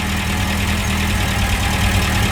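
A Talbot Express van engine idles with its new exhaust fitted, a loud, close, steady rumbling throb that holds evenly with no voices.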